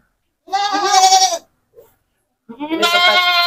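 Bligon and Peranakan Etawa goats bleat up close, two loud, wavering cries separated by a short pause with a faint grunt in between.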